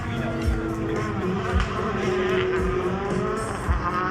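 A rally car finishes a stage of the Rallye Cœur de France at Super Vendôme, its engine revving loud and close with gear changes and brief tire noise, while a commentator talks over it and a crowd murmurs.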